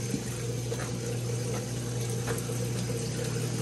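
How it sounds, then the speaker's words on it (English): Hot water running from a tap into a utility sink beside a heat pump water heater, a steady continuous rush with a constant low hum underneath, close and even throughout, with no talking. "I'm gonna run the hot water over here in this utility sink I've got down here"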